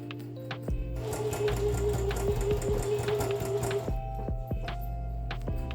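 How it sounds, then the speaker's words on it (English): A sewing machine runs bone encasements onto a party dress, a quick even mechanical stitching patter close by for a few seconds, with soft clicks and handling around it. "So she was just sewing the actual bone encasements on right here."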